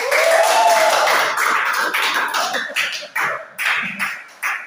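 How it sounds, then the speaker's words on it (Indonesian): An audience at a school presentation claps for SMKT Basma, a sustained burst of dense applause that thins out into a few separate rounds of clapping toward the end. "Tepuk tangan buat SMKT Basma."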